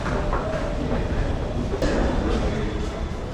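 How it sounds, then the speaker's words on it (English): A Delhi metro train rumbles steadily and close by inside a large city station, a continuous low roar with faint rhythmic clatter and a brief high screech partway through. "So they're very handy, these metros, for getting across the city"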